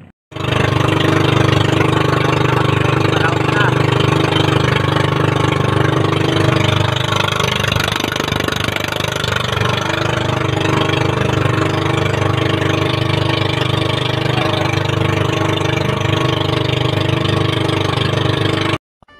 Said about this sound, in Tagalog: Andal mo ng makina.